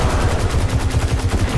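Rapid automatic gunfire from the video game Destiny 2 blasts in a loud, continuous burst, the dense stream of shots filling the whole moment with no pause.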